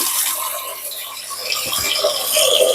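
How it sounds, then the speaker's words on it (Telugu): Water runs and splashes into a container of washed rice, a continuous close trickle with a few light knocks. "మూడు సార్లు అయిపోయింది చాలు వాటర్ వదులుతున్నానండి"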